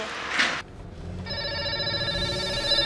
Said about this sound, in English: Her phone ringing non-stop while trying to coordinate all matters regarding the distribution